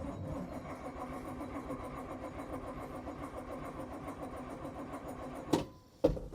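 The diesel engine of an abandoned 1981 International turning over, a steady rhythmic cranking whir that runs for several seconds without catching, then cuts off with a couple of clunks.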